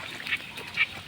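Two brief honking calls from wild birds, likely ducks or geese passing overhead, sound at moderate distance over a faint windy outdoor background.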